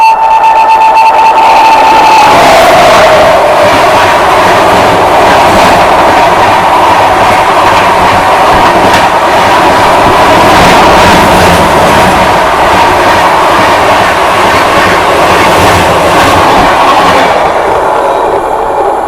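Bikaner Intercity Express running on rails after a stop near a line junction from Hisar, with a continuous loud rumble and rhythmic clickety-clack of wheels heard from inside the coach, steady throughout.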